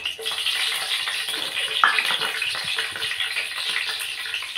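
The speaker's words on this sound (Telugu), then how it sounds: "కొన్ని ఆనియన్ ముక్కలు వేసుకొని బాగా కలుపుకుందాం" Whole spices (bay leaves, cloves, cinnamon, cardamom), green chillies and onion pieces frying in hot oil for a curd chicken curry, giving a steady close sizzle with a brief louder crackle partway through.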